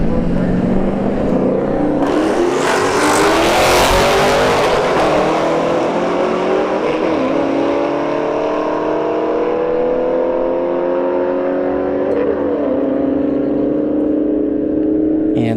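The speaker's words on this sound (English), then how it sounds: "5th gen Camaro SS, left lane. Challenger Scat Pack in the right." Fifth-generation Camaro SS and Challenger Scat Pack V8s launching side by side at a drag strip, a loud burst of engine roar with rising, layered revs through gear changes, fading slowly as the cars pull away.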